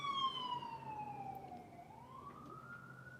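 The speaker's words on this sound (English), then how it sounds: "Sounds like there's a police car out there." Faint wailing police car siren passing outside, its tone sliding down and then rising again, distant and muffled beneath a quiet room.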